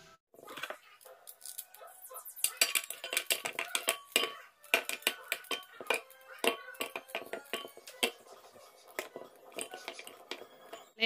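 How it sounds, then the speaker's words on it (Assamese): Quick, irregular knife chops and taps on a cutting board as vegetables are cut, close by, with short pauses between bursts. "এইফালে মই চব্জিখিনি কাটি লওঁ"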